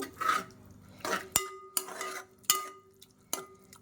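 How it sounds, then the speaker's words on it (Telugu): Small fish are stirred into a tomato curry in a pan, with a spoon scraping the pan in steady repeated strokes and sharp metallic knocks against the rim, close and clear with no talking. "చేపలు వేసుకొని నీట్గా మిక్స్ చేసుకుందాము"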